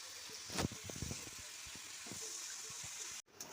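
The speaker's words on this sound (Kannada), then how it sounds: "ಚೆನ್ನಾಗಿ ಮೀಡಿಯಮ್ ಫ್ಲೇಮಲ್ಲಿ ಇವನ್ನ ಚೆನ್ನಾಗಿ ಫ್ರೈ ಮಾಡ್ಕೋಬೇಕು" Pudina shankarpale deep-frying in hot oil over a medium flame, a steady bubbling sizzle with a few brief louder pops, heard close and without talk until a sudden cut near the end.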